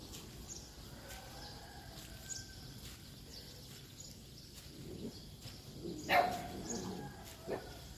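A dog barks a few times in the distance, faint against quiet outdoor ambience with occasional bird calls.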